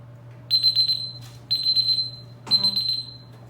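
A small kitchen-style timer set for one minute during a flu test beeps in three bursts of rapid high tones about a second apart, clear and close.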